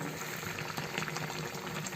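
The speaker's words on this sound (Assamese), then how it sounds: "এয়া উতলি আছে, মোৰ প্ৰায় হৈ গৈছেগৈ" A spinach and omelette curry boils in a pot, giving a steady, soft bubbling and simmering that runs evenly throughout without talk.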